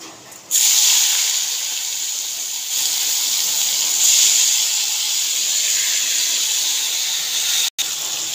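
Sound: washed shrimp sizzling in hot mustard oil

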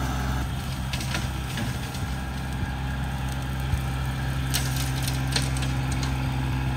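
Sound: compact cab tractor engine running

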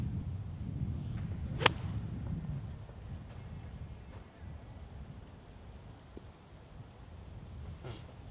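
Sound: golf ball struck with a 60 degree wedge

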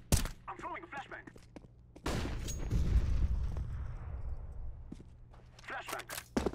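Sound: flashbang grenade thrown in CS:GO video game

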